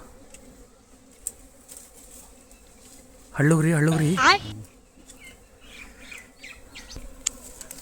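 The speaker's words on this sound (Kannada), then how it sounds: "ಸೌಂಡ್ ಕೇಳಿಸ್ತಾ ಇರ್ಬೋದು ನಿಮಗೆ, ನೊಣಗಳ ಸೌಂಡು." A loud, close buzzing of flies swells for about a second, with faint insect drones and a brief spoken word around it.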